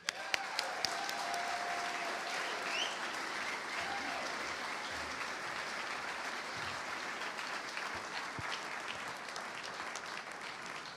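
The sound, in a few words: audience applause at an awards ceremony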